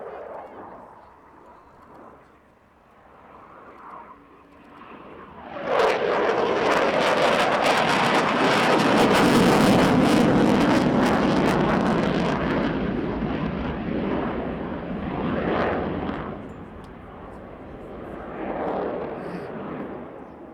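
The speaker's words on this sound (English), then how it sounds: "the power of the 2 Eurojet EJ200 turbofan engines when they're in hard burner" A loud, roaring rumble of two Eurojet EJ200 turbofan engines in full afterburner swells in and holds steady for several seconds, then fades, with wind buffeting the microphone, at an air show.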